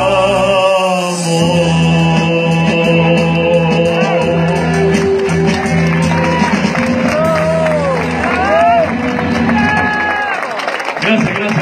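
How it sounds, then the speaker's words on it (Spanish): Applause from the audience at a live concert at a peña in Argentina keeps up steadily as a lingering sustained music chord fades out beneath it, and the crowd hubbub carries on to the end. "Qué rico sus aplausos"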